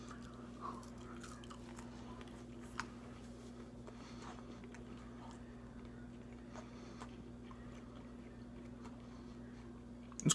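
Chewing Jack Link's turkey jerky, crispy and chewy, with quiet bites and crunches scattered over a steady low hum, faint and close.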